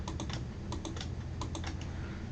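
Someone types on a computer keyboard while formatting a thesis document, a quick run of light key clicks in small clusters over a faint background hum, with no talk.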